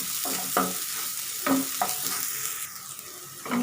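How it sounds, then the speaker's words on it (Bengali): Chopped onion frying in oil is stirred in a pan, a soft steady sizzle punctuated by several distinct scraping and clinking strokes of the spoon, fairly close, with no talking. "পেঁয়াজ কুচিটা খুব ভালোভাবে নেড়ে নেব।"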